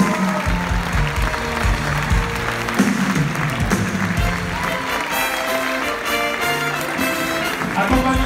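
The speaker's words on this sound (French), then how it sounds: "On peut l'applaudir très fort" Audience at a 2019 New Year's wishes ceremony in Vias applauds loudly and steadily as the mayor comes on stage, with music playing throughout the whole stretch.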